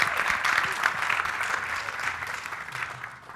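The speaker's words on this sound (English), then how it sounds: "applause." A live audience at a sports mentoring event claps for a footballer, a short burst of moderate, even applause that gradually fades.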